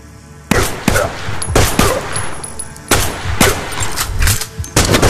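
A pistol firing in a VR video game, about seven sharp, punchy shots at irregular intervals, each with a brief ringing tail, and no voices.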